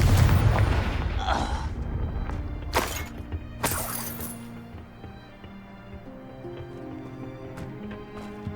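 Confringo fire spell in Hogwarts Legacy, a heavy boom followed by shattering crackles and a couple of sharp bursts that fade into low rumbling game ambience, with no talking.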